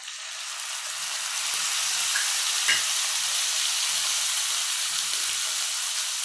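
Chopped tomatoes and fried sun-dried vathal berries are stirred in a hot oiled pan for Chettinad vathal puli kulambu, giving a steady, loud sizzle throughout with faint scraping as the spoon moves.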